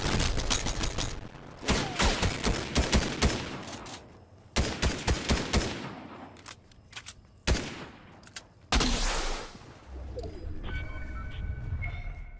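Gunfire in the video game Fortnite: repeated bursts of rapid shots and single cracks separated by short gaps, fairly close and loud, ending in a quieter steady tone, with no talking.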